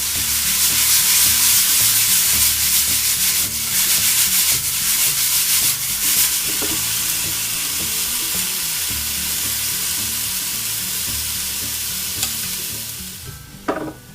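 Sliced potato and spinach (alu sipsip) cook over high heat in a loud, continuous sizzle, broken by repeated rhythmic scraping and stirring strokes in the pan.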